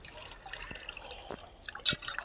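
A tap drips while catfish are washed, three or four separate soft drops landing at uneven intervals over a quiet background with faint clinks.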